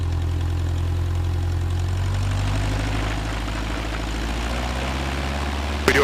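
A small airplane's piston engine idles steadily before takeoff, a close, droning low hum with a throbbing propeller beat and a brief click near the end.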